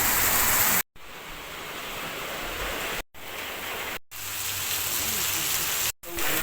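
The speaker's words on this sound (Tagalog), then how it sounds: "Grabe talaga yung ulan. Sobrang lakas" Heavy rain pours at night on a slick road, a loud, dense, steady hiss that cuts out abruptly several times and then returns.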